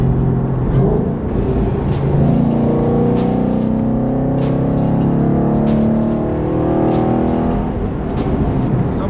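A straight-piped 2014 Mustang 5.0 V8 roars loudly and close as the driver downshifts to fourth gear, its deep exhaust drone rising and falling with sharp pops and crackles over the sustained engine note.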